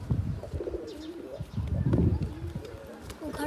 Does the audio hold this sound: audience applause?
no